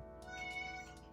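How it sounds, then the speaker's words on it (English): A house cat meows once, close and clear, a short drawn-out tonal cry in a quiet room. "this cat is driving me nuts because she doesn't stop meowing"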